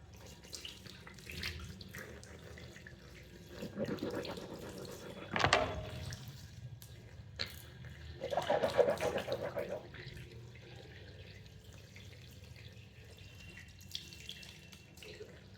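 Tap water runs into a bathroom sink while teeth are brushed, a faint steady flow with a couple of louder splashing bursts and soft scrubbing sounds, with no talking.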